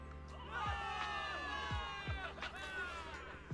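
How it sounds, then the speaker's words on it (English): A crowd cheers and shouts in the Zenless Zone Zero video game, a dense, continuous roar of many voices with swelling calls and repeated low thuds, close and loud. "Give it up for yourselves, soldiers. Cheer for victory."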